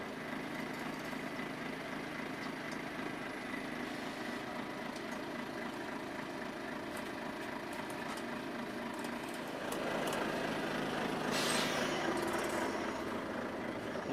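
A truck tractor unit's diesel engine hums steadily as it pulls clear of its trailer, the drone swelling a little louder toward the end with a brief hiss of air.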